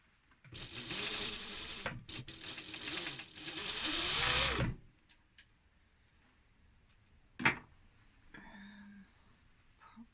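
A sewing machine stitches around a trouser fly in a steady, fast whirring run of about four seconds. It stops, a brief clunk follows, and then there are quieter handling noises.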